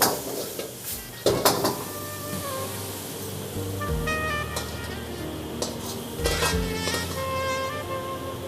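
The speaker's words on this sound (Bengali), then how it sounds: "দিয়ে আবার খুব ভালো করে নেড়ে টস করে নেওয়া হচ্ছে।" Chicken drumsticks and chopped spring onion tossed in a pan, with clanking metal pot-and-utensil knocks and scrapes over a soft sizzle, a few sharp hits standing out.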